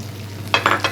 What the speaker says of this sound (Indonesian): Tinggal kita goreng ikan asin.